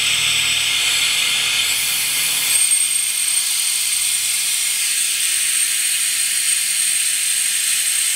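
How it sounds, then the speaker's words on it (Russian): Electric vacuum pump drawing brake fluid through a hose from a bleeder nipple on a 2006 Hyundai Porter truck; a steady loud hiss and whir runs throughout, with a low mechanical rumble fading out after the first couple of seconds. "Я вот его открываю и включаю вакуум."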